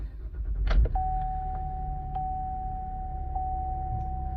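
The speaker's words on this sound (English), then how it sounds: "So I can start it just fine." A 2016 GMC Acadia Denali with a failing power steering pump and high-pressure hose cranks briefly and settles into a steady low idle rumble, close up, while a sustained electronic chime tone rings over it.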